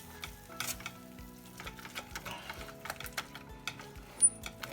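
Shredded cheese being stirred into a seafood filling in a pan: repeated scraping strokes of a utensil over a soft, steady sizzle, close and fairly quiet, with a slightly louder clack near the end.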